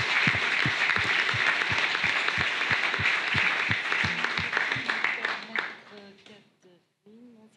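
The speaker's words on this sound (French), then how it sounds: "ce que je vous demande, c'est de les applaudir tout de suite" A conference audience at a meeting on relocating local plant-based pallet production breaks into sustained, dense applause that rolls on for several seconds before fading out, with a few words of talk just after.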